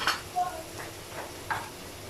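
Chopped green chilies frying in a pan on a medium flame, a soft steady sizzle with a few brief stirring scrapes, faint under quiet background.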